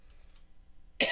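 A man gives a single short, sharp cough near the end, loud against a quiet room background.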